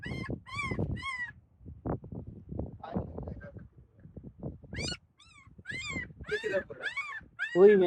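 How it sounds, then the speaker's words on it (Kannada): A puppy whimpers and cries in high, wavering whines, in bursts at the start and again near the end, with voices talking in between, somewhere in a desert cave. "ಅಲ್ಲಿ ಕೂಡ ಒಂದು ನಾಯಿ ಅಳೋದು ಕೇಳಿಸ್ತಾ ಇತ್ತು"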